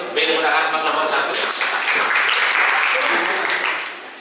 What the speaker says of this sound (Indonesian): Beri tepuk tangan sama kelompok 1.